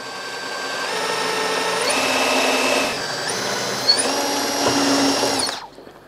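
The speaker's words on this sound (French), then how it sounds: "je vais pouvoir attaquer le perçage" A power drill fitted with a guide bores into a wooden dowel, whining steadily at high speed with slight pitch shifts as the bit bites, then spinning down at the end.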